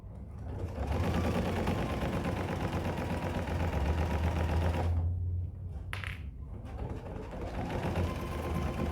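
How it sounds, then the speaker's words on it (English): A sewing machine stitches along the edge of the batting of a cross-body bag, running in a fast, steady rattle with a brief pause partway through before the stitching resumes. "I'm kind of sewing right on the edge of that batting, which is about 1/2 inch"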